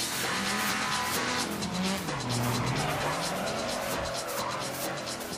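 A car drifting at the edge of control in a street racing game, engine roaring loudly while the tires squeal continuously, the pitch swooping down and back up as it slides.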